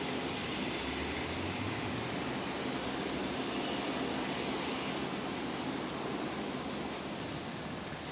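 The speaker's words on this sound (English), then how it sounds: "Jetstar 931 touching down here, which is just coming from Cairns" Jetstar airliner arriving from Cairns touching down at Brisbane airport, a steady broad engine roar that holds loud and continuous throughout with no voices.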